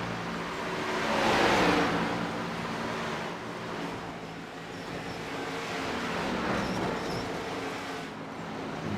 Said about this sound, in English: Hear these cars bottoming out. That splitter getting into the ground.